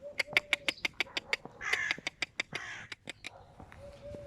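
A rapid series of sharp, clicking pulses runs through the clip while crows caw loudly nearby, their calls overlapping the steady clicks.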